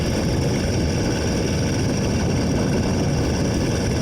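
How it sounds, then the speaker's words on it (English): A motorized bicycle engine runs continuously during a cross-country winter ride, a steady loud low drone mixed with wind rush in the open air, with no talking. "This engine is remarkably less buzzy, though, than the Phantom"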